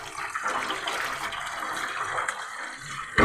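Water poured off boiled food to strain it gushes in a steady, splashing rush for about three seconds, fairly close and with no talking.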